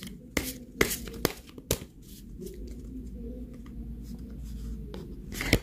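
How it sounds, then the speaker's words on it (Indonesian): Playing cards are scattered across a tabletop, making soft sliding rustles and several sharp taps close by. "Saya tabur saja kartunya seperti ini, nanti saya tinggal ambil."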